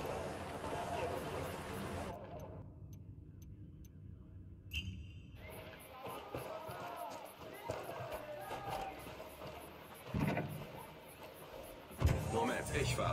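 A car drives in a video game with an engine humming and rolling along at moderate volume, broken by a few thumps and knocks as voices talk over it.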